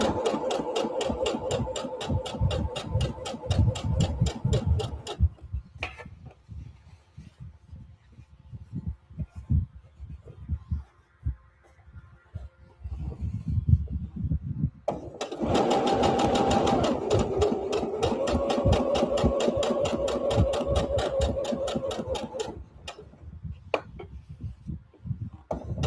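Domestic sewing machine running long stitches in bursts of rapid, even needle clatter, pausing in between and starting again, close up with a steady mechanical hum and no talking.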